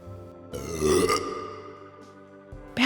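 A long, rumbling burp rolls on for about two seconds, loud and close, then tapers off before a short noise at the end.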